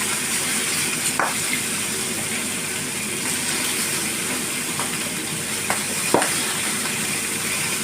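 Corn frying with mixed spices in a pan, an even, moderately loud sizzle with occasional light clicks as it is stirred, no voices.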